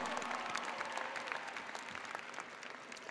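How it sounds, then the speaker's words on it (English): An audience at the Kean University 2023 undergraduate commencement applauds, steady crowded clapping heard at a distance through the whole stretch. "Graduates, give them a great round of applause."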